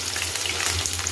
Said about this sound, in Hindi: ये है क्यूब पनीर, अब इसे डाल देंगे। संभल के डालिए, घी बहुत तेज छटकता है।